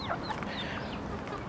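Several chickens cluck and chatter together nearby, with short overlapping calls against a steady farmyard background.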